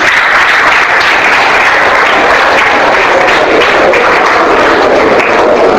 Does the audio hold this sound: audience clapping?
yes